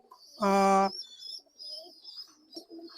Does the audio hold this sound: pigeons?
yes